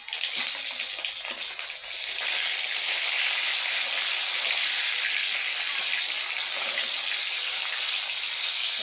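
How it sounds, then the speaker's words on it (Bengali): Fish sizzles in hot oil in a home kitchen pan, a loud, steady, even hiss that holds throughout with no talking. "মাছটা আমি ভেজে নিচ্ছি"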